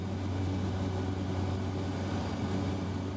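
Inside a small Cessna Caravan propeller plane flying over Tanzania, the engine gives off a steady, loud, unbroken drone with a low hum, and no one speaks.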